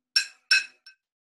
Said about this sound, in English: and I've got a plate and a spoon.